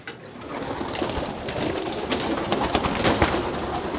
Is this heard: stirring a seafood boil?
no